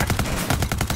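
Rapid automatic gunfire in Rainbow Six Siege, a dense burst of about ten sharp, evenly spaced shots filling one second, loud and close with no talk.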